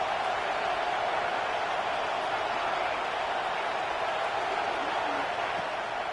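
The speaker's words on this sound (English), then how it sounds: "The Buckeye crowd alive on 3rd down." A packed Ohio State Buckeyes stadium crowd in a college football video game roars on third down, a dense, even wall of cheering that holds constant from start to finish.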